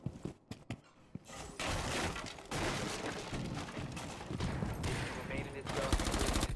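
Rapid automatic gunfire from the Rainbow Six Siege video game, dense bursts of shots with sharp cracks running almost continuously, loud and close, with a few isolated shots at the start.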